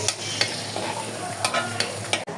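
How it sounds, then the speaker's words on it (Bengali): Nuts and milk being stirred into a chicken roast in a home kitchen, with a steady frying sizzle and repeated light scraping stir strokes against the pan, close and alone. "এখানে বাদাম আর দুধ গুলিয়ে নিতেছে"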